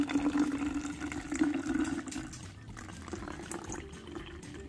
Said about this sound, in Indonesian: Kita masukin airnya ya.